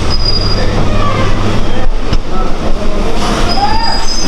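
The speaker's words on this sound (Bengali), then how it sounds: "আমাদের ট্রেন এভাবেই যাচ্ছে" A passenger train runs toward Hasnabad station, its steady rumble and rail noise loud and continuous throughout, with faint wheel squeal rising near the end.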